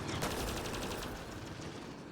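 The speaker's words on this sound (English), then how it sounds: "What are you shooting at?" Dense, rapid gunfire from the sci-fi shooter Mass Effect Andromeda fills the whole stretch, with a burst of quick repeated shots near the start before it settles into a steady loud barrage. No one speaks.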